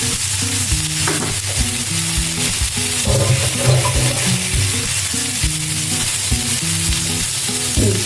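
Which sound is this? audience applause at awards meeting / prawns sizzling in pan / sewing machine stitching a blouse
prawns sizzling in pan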